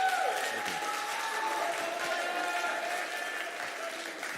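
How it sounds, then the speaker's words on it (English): Steady applause from a high school chapel audience, sustained clapping throughout with a faint tone running beneath it. "Can we get another round of applause?"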